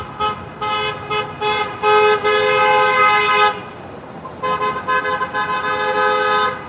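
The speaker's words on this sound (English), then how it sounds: "sit and hear how many people honk" Car horns blare repeatedly near a downtown protest in Clearwater, long sustained honks and shorter toots overlapping with traffic noise, loud and close.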